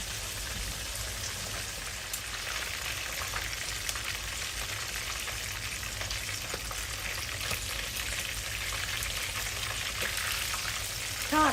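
Fresh mackerel frying in a pan gives a steady, close hiss and crackle of hot oil, like rain on a surface, continuous throughout without talk.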